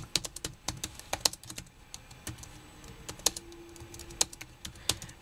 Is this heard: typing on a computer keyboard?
yes